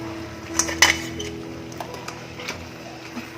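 Whole crabs dropped into sautéed masala in a pan for Tamil-style crab masala gravy, giving a couple of sharp clinks and knocks against the metal around the one-second mark, then quieter scattered taps over a low background hum.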